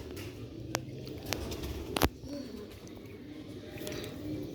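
Pigeons coo softly in a loft with low, murmuring calls. A few sharp clicks and light shuffling sounds come through nearby.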